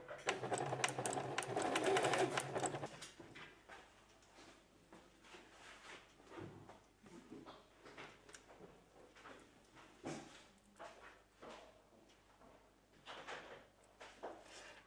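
A sewing machine runs a short straight seam on a baby apron, a close, steady whir for about three seconds before it stops, followed by quiet handling of fabric.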